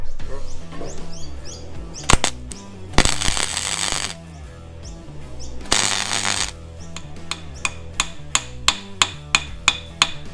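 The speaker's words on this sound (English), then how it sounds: "Bit of the old hammer shock maybe." Sharp metallic hammer blows on a part of a spare Toyota 3B diesel engine from a BJ42 Land Cruiser, with a few heavy strikes early and then a rapid regular run of close, ringing taps toward the end.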